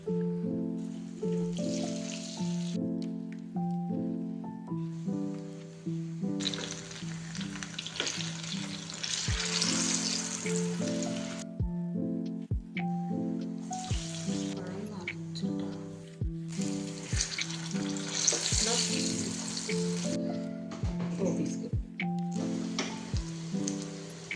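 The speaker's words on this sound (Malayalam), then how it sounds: "2 ഭാഗം നന്നായിട്ട് ഫ്രൈ ചെയ്തിട്ട് എടുക്കുക കേട്ടോ" Banana pieces filled and coated in batter fry in hot oil, giving a steady bubbling sizzle throughout with intermittent stirring scrapes, while a voice speaks over the cooking at intervals.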